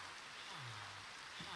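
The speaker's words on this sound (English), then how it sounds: "It's hard to tell when it's raining, honestly." Rain falls steadily in Minecraft as a soft, even hiss across the whole short stretch, with a faint low tone drifting underneath.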